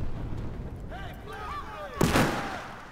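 A flash grenade goes off in the video game Battlefield 4 as one sharp, loud blast with a hissing tail. It follows a stretch of fainter in-game noise, and a voice briefly speaks just before it.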